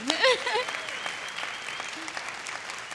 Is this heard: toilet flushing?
no